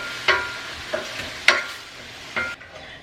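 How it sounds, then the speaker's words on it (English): Minced garlic frying with lightly browned mushrooms in a skillet, a steady sizzle broken by a few sharp scraping stirs. "now I'm just gonna add a little bit of minced garlic. And let that cook for just a few seconds."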